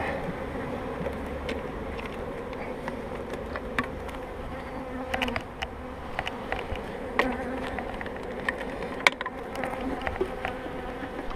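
Honeybees hum in a dense, steady swarm around an opened hive during a spring inspection, close and continuous, with scattered small knocks and clicks from the hive being handled.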